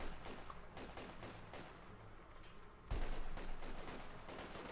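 MG 34 machine gun fire in a Company of Heroes 2 match: repeated bursts and volleys of gunfire with distant booms, growing louder and denser near the end, no voices.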